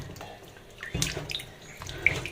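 Tap water runs into a sink as vegetables are rinsed, a steady splashing stream with louder bursts and a few brief knocks, close by, with no one talking.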